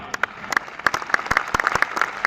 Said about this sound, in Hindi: आपकी तालियां हर बात पर उठे